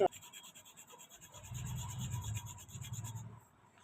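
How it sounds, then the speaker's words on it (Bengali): Sandalwood stick rubbed against a stone, making a soft, low, repeated grinding scrape for a couple of seconds at close range before it stops. "আমি একটু চন্দন কাটা ঘষে নেবো, এই যে দেখছো চন্দন"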